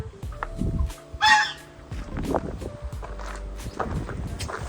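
Chinese chickens on a farm cluck in short, scattered bursts, with a louder squawk partway through and footsteps shuffling nearby.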